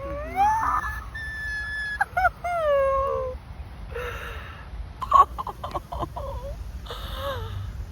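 Dog outdoors at a kangaroo park giving high whining yips and short howl-like cries in several bursts, fairly close, with faint background noise.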